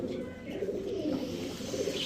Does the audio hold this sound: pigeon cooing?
yes